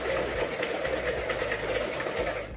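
Oil, sugar and peanut butter whisked hard and fast in a bowl for brownie batter: a continuous, close, rapid rhythmic scraping and clatter with no talk.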